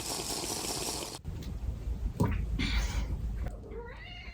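A cat meows a few times over a dense, rumbling background, the calls coming near the end and fairly clear above the noise.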